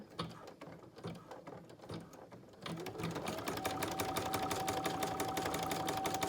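Brother PE770 embroidery machine stitching an in-the-hoop mask, a quiet rhythmic tapping of a few slow stitches that breaks into rapid, steady mechanical stitching.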